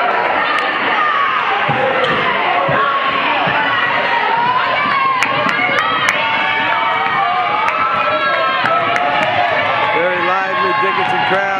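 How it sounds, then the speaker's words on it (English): A basketball crowd cheering their team on during the closing minutes of a Dickinson versus Howard game, with loud, sustained shouting, whistles and sneaker squeaks throughout, and voices mixed into the roar. "Cheering their team on."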